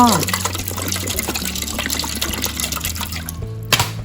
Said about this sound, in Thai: เทน้ำเปล่าลงไปในหม้อ